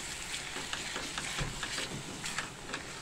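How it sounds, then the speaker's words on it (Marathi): Masala mixed with curd is sautéed in a pan for lasooni methi, a quiet continuous sizzle with soft scraping stir strokes, close and faint. "छानपैकी आता हा मसाला आपल्याला असा परतून घ्यायचा आहे."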